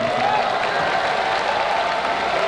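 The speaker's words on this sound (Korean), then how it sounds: "직소 선수 팬들로부터 뜨거운 박수를 받기에" At the Black Combat 15 fight event, the crowd gives fighter Jigsaw Moon Gi-beom warm applause after his loss, a steady, even roar of clapping throughout with a faint tonal hum beneath.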